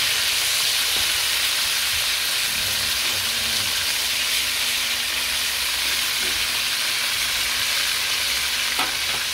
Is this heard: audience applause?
no